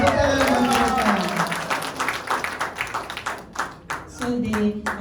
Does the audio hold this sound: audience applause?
yes